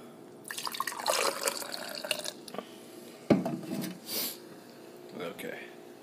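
Four Loko Gold malt beverage glugs and splashes as it is poured from a can into a glass, a close trickling pour with a sharp clink and light fizzing as the liquid settles, and someone speaks briefly over it.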